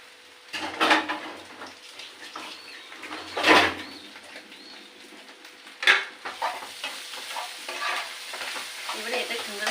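Potatoes stirred in a frying pan, a few loud scraping bursts over a steady soft sizzle, with brief bird-like chirps in the background.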